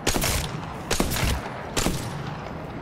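Longbow sniper rifle in the video game Apex Legends firing three loud, evenly spaced shots, each a sharp blast with a short reverberant tail, close and dominant with no talking.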